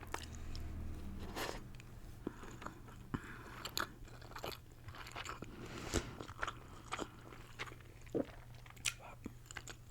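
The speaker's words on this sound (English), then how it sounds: "let me take one bite of sushi" Sushi dipped in soy sauce is bitten and chewed up close in a whispery eating setting, with repeated crisp crunchy and moist chewing sounds spread irregularly through the clip, plus faint background murmurs.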